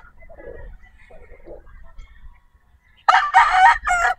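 A bullstag rooster at a gamefarm crows loudly near the end, a harsh two-part call after a few soft clucks and quiet background.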